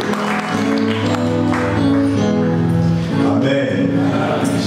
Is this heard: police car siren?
no